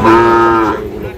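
A Sahiwal bull calf at the Ambari cattle market in Dinajpur gives a single loud, close moo that lasts under a second and then trails off.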